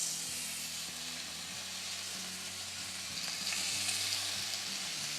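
Four strips of bacon frying in a pan, a steady close crackle and hiss of fat that swells slightly louder partway through, with faint stirring underneath.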